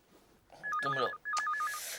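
A telephone rings nearby in two loud, trilling bursts separated by a short gap, with no talk over it.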